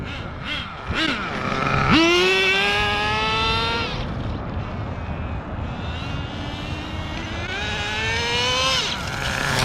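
A Thunder Tiger Tomahawk nitro RC car screams at full throttle, its high engine whine climbing sharply in pitch, dropping away, then revving up again, loud and close.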